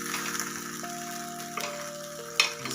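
Appe frying in an appe pan as they are flipped, a soft continuous sizzle with a few light taps and a sharp click of a utensil near the end, close and fairly quiet, with no talking.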